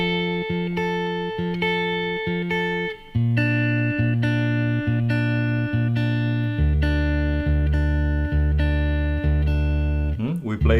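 An acoustic guitar plays the opening bars of a song alone and up close: a picked pattern of repeated notes over sustained low bass strings, shifting chords every few seconds, ending with a slide.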